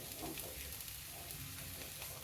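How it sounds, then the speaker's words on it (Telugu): Grated carrot and chopped vegetables frying in a pan for egg fried rice, a steady close sizzle with faint stirring running throughout without talk. "దీన్ని బాగా వేయించుకుందాం"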